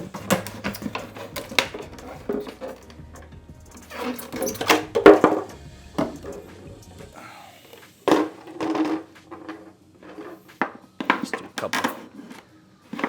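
Scraping, crunching cuts through a thick plastic jug with an OTF knife, with irregular clicks and creaks as the blade works, then pauses and resumes.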